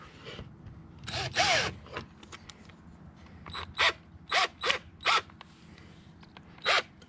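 A handheld drill bores holes through PVC pipe and a block of wood in several short bursts of whirring and grinding, each burst lasting about a second with brief pauses between, close up.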